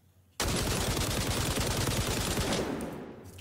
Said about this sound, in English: We're going to shoot about 20 bullets just to see the recoil pattern.